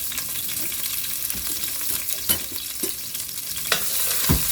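A fatty cut of meat sizzles in hot oil, a loud close hiss with scattered pops and stirring clatter, and no speech over it.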